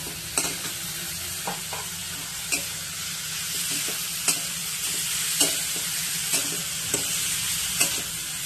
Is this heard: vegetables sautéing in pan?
yes